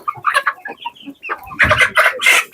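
Freedom Ranger meat chickens, about twelve weeks old, cluck and squawk up close inside their coop. Their chatter builds to a louder, busier flurry of calls toward the end.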